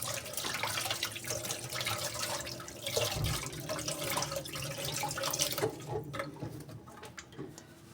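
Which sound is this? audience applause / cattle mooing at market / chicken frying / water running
water running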